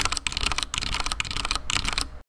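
Fast typing on an Echo mechanical keyboard produces loud, close, continuous clacking in quick bursts separated by short gaps, with no voices, ending abruptly.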